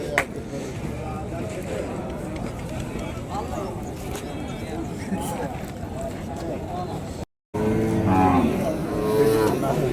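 Cattle and calves at the Kundarapalli cattle market, with lowing and moos rising from a dense, noisy crowd of animals and people talking throughout, and a brief dropout near the end.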